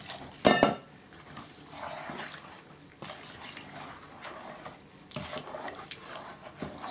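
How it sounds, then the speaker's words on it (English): Cornmeal pudding mixture for a traditional Caribbean dish being stirred in a bowl, with a steady wet scraping and swishing and a sharp clink of utensil against the bowl near the start. "And we're stirring it in."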